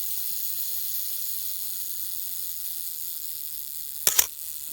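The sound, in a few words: Rolleiflex SL35M camera self-timer running and shutter firing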